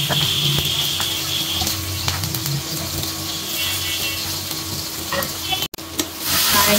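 Onions frying in oil in a pot for vegetable fried rice, browning as they cook, give off a loud, steady close sizzle with scraping stir strokes, a brief dropout, then a louder burst of frying.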